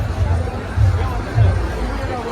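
A huge crowd at the Gudi Padwa procession in Girgaon, 2024, creates a dense, steady babble of many voices with low rumbling swells, heard close and continuous.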